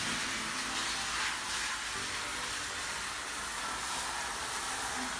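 A steam cleaner fitted with a diamond-shaped brush hisses continuously at close range, a loud, steady rush of steam with a low rumbling undertone and no talking.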